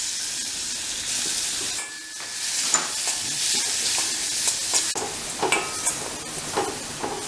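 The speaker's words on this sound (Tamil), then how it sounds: "இப்போ நான் இதில் வந்து கொஞ்சம் மாம்பழம், பலாப்பழம், கொஞ்சம் வாழைப்பழம் எல்லாம் போட்டிருக்கேன்." Mango, jackfruit and banana sauteing in ghee in a pan for a South Indian three-fruit payasam, giving a steady close sizzle and hiss with scraping stir strokes, no voices.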